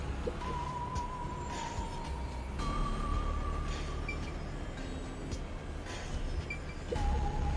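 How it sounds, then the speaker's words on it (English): A train in the video game Master Detective Archives: Rain Code rides through a long tunnel, giving a faint, continuous rumble and clatter with a few soft, sustained tones above it. "After we exit this long tunnel we just entered, we'll reach Kunai Ward in no time."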